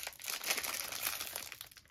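A plastic wrapper of blueberry yogurt Pocky being handled and opened, with a close, continuous crinkling and rustling over a couple of seconds and no speech.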